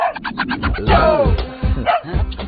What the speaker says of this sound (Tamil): என்னது என்னைக்கு இல்லாம நம்ம நாய் இன்னைக்கு இப்படி குலைக்குது?